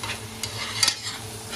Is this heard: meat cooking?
yes